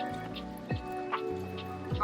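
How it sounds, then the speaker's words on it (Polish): Rain on a wet day in northern Spain, with scattered drips and trickles of water falling steadily and fairly close by, with no voices over it. "Typowa pogoda z północy Hiszpanii, czyli leje deszcz."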